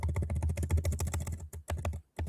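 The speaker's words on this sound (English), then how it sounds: "Brother typing fast as hell." Rapid typing on a computer keyboard: a dense, fast run of close key clicks with only brief pauses near the end, heard alone without voices.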